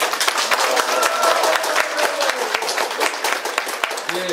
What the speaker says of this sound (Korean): 여기 모이신 분들의 힘찬 박수와 환호성으로 시작하겠습니다